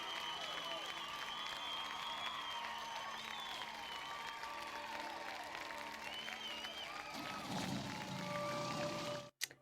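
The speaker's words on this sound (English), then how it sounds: "you smile up at Tomas, who receives a thunderous applause" A video game crowd in Tiny Bookshop applauds steadily, dense clapping filling the whole stretch, then it cuts off abruptly near the end.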